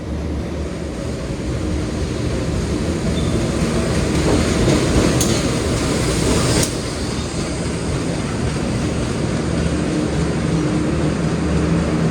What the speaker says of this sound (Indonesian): ini kereta api komuter lain Doho di stasiun Sidoarjo bersilang dengan kereta api Pandalungan